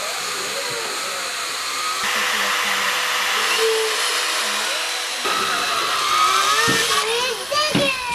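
A power drill bores a hole through a ram's horn for a shofar in a workshop, giving a loud, continuous high whine that shifts in pitch as the bit bites, with brief changes in load near the end.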